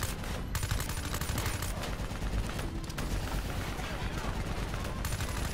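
Video game gunfire during a prison-escape firefight against an APC and a VTOL, rapid sustained bursts of automatic weapons rattling continuously, loud and dense with no pauses.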